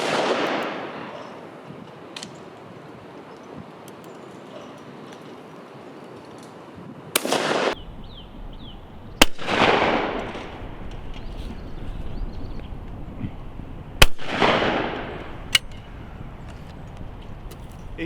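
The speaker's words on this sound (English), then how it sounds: "Going to shoot at one, and the gun goes bang" A Zoli One shotgun loaded with Fiocchi 21 gram cartridges fires at clay targets: three or four sharp, loud bangs spaced several seconds apart, each with a ringing outdoor echo, over low background hiss.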